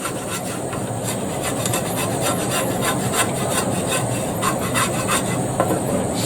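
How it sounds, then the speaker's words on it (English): Continuous rough scraping of crud off a hot cooking surface while a Scotsman makes a breakfast roll, a steady close rasping texture running throughout with no talk. "Just going to give some of that crud a wee scrape off"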